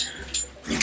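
A dog close by makes a couple of short whimpering, huffing vocal sounds, brief and fairly loud in a quiet indoor room.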